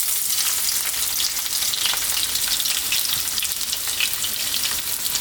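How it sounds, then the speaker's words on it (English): Garlic and ginger frying in hot sunflower oil in a wok for a beef stir fry, giving a continuous bright crackling sizzle that holds steady and close with no talking. "We're first going to drop in our garlic and ginger."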